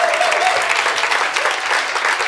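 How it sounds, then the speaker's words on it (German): Loud, close, continuous applause from a church congregation during a bilingual English-German service, with a few voices murmuring underneath. "Jetzt lass uns dem Herrn mal einen Applaus geben."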